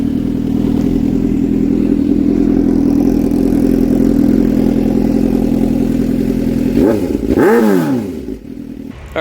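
A motorcycle fitted with a titanium exhaust idles loudly and steadily nearby, then the engine revs up and drops back twice in quick swoops before cutting off.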